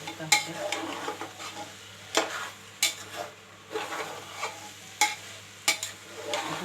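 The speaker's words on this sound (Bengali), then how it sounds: "ভাজা ভাজা করে নিচ্ছি।" Spiced rice and lentils for khichuri frying in a pot, a low sizzle broken by regular sharp scrapes and knocks of a spoon stirring against the pot.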